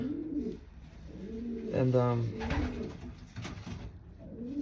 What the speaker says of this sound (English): So I got a pigeon here,